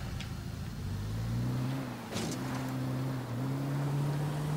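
A car engine in the video game Ghost Recon Wildlands drones steadily and close, its tone climbing and settling as the vehicle drives along without a break.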